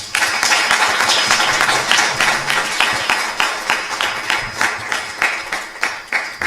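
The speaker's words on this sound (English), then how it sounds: "I think we can do better than that for applause." Audience at an ISKCON temple in Phoenix applauding after a talk, steady clapping from many hands throughout, fairly close and full, with rhythmic pulses as the claps bunch together.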